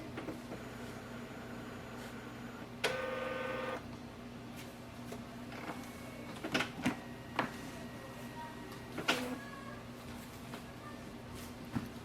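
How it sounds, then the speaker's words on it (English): An Epson ET-2900 ink tank printer runs a scan with a steady mechanical hum and whir. A short electronic tone sounds early on, followed by several soft clicks and clunks from the machine. "Press this button to start the scanning."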